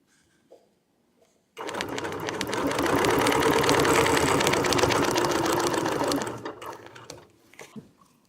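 Sewing machine with a ruler foot runs in one sustained loud burst of rapid stitching for about four and a half seconds, slowing and tapering off, with a few brief soft clicks before and after.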